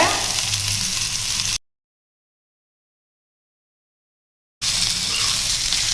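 Sardines fry in oil on a stone dosa griddle with a steady close sizzle. The sound breaks off into about three seconds of complete silence, then the same crackling hiss resumes.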